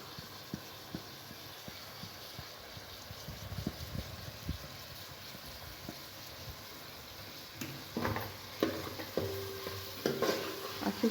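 Mutton sautéing in oil over browned onions with turmeric gives a steady low sizzle, with a spoon stirring and scraping the pot, growing louder and more rattly toward the end.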